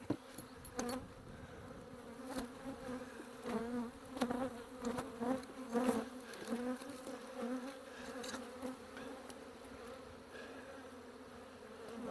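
A large swarm of honey bees in a hive box gives off a steady low buzzing drone, rising and falling in waves, with scattered sharp knocks and clatters from handling the box over the humming.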